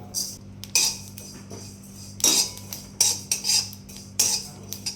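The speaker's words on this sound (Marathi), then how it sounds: "हे कोरडे पदार्थ जेव्हा आपण भाजतो त्यावेळेला त्याचा असा चटचट चटचट आवाज येतो" Fennel seeds dry-roast in a pan while a metal spoon stirs them, giving sharp scraping clinks in irregular bursts over a faint low hum, with quiet crackling between the strokes.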